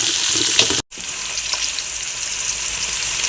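Green chilies fry in hot oil in a pan for brinji rice, making a loud, continuous close sizzle with a brief break in the sound.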